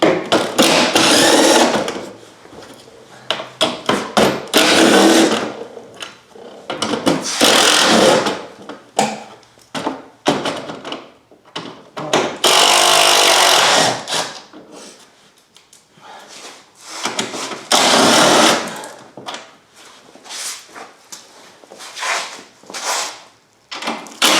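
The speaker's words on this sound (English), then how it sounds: "Now we're just going to unbolt this." Power tool spinning bolts out while removing the inverter from a 2008 Toyota Prius, heard as several loud, separate bursts of whirring and rattling with brief pauses between them.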